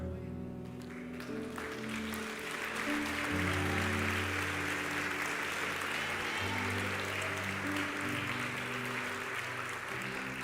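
A church congregation claps steadily through a dense wash of sound, with music and crowd noise sustained underneath and no pauses, loud and reverberant throughout.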